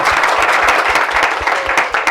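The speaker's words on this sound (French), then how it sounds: "On applaudit très fort pour nos invités." Loud, dense applause from a television studio audience welcoming a guest onto the set, continuous rapid clapping close to the microphones.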